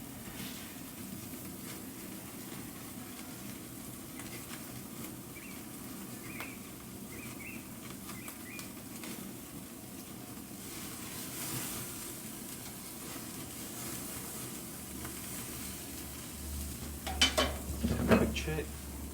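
Steak searing with garlic and butter over open flames on a smoker grill, a continuous soft sizzle and crackle with faint rustling, growing busier with a few clatters near the end, no talking.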